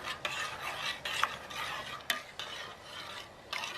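Spoon scraping and stirring food in a small pot on an alcohol stove, with sharp clinks against the metal over a soft sizzle, close and steady with no talking.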